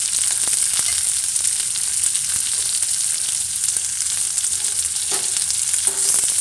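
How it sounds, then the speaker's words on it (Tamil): About ten garlic cloves, ginger, curry leaves and two dried red chillies sauté in a hot pan, a loud continuous sizzle close by with faint stirring scrapes. "இதெல்லாம் நல்லா வதக்கிக்கலாம்"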